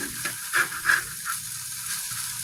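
An egg sizzles and hisses in a hot frying pan, a close steady crackle with a few brief louder pops and no talking.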